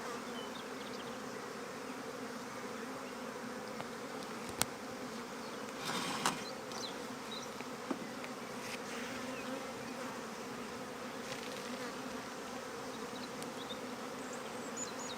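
Honey bees buzz steadily around an open hive during a March inspection, a soft continuous hum with a few faint clicks and knocks from handling the frames.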